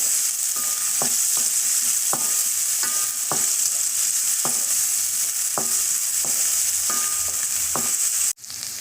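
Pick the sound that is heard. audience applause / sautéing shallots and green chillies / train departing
sautéing shallots and green chillies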